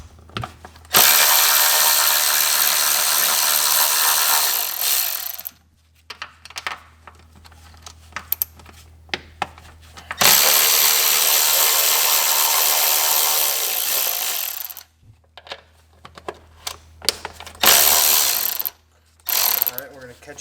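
A ratchet removes 12 mm bolts from a coilover on a Lexus IS300, giving two long, loud, rapid whirring runs with short clicks and clanks between them, up close.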